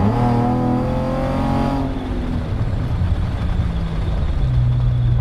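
A Chevrolet Camaro engine at full throttle, with a loud, steady high-revving note that drops away sharply partway through, leaving a rough, uneven idle before the revs rise again near the end.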